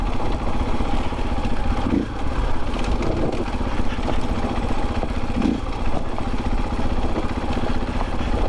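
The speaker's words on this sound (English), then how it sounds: "You hear the little blip, and then you can hear the motor kick in" A Husqvarna FE501s motorcycle with a Rekluse CX clutch idles steadily, then picks up with a brief blip before settling into a continuous, close, rumbling run.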